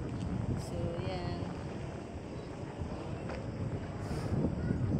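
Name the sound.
wind blowing at the foot of a windmill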